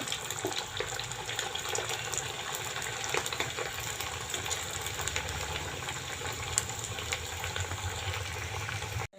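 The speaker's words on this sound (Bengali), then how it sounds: "তেল গরম হয়ে গেছে এই দেখো ছেড়ে দিচ্ছি একটা একটা করে এখন এটা ভেজে তো হালকা লাল করে ভেজে নেব" Egg chops frying in hot oil on a low gas flame make a continuous dense sizzle and bubbling hiss that stays fairly even throughout, with no speech over it.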